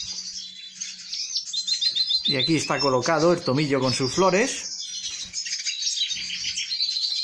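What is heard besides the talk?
birds chirping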